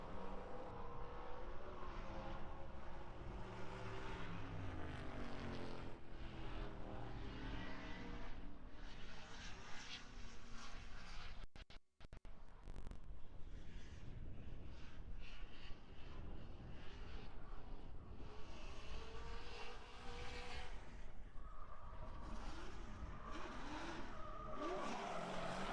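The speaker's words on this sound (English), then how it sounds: "I'm going to let you guys enjoy the sweet sounds of Gabriel as he makes through the course" A competition car runs a course at a Spec-D event, its engine revving and droning continuously with tire squeal and skidding throughout, loud and close with only a brief dip midway.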